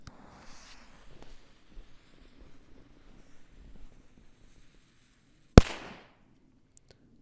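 An old Bum Bum F3 firecracker of about 0.6 grams goes off in snow with one sharp, loud bang that trails away quickly, after several seconds of soft wind and faint background noise.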